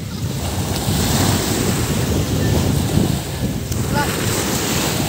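Ocean waves wash continuously onto a white sand beach, a steady broadband surf roar with gusty wind buffeting the microphone throughout.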